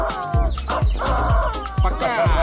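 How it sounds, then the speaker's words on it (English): Chickens clucking in a lively setting, several short bird calls repeating in quick succession over a steady background of music and voices. "That's a chicken."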